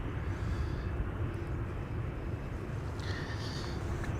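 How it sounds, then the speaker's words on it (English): A Boeing 747 airliner at Amsterdam Schiphol Airport makes a faint, distant, steady jet rumble and roar, with a light whistling hiss joining in toward the end. "747 destined for 18 left."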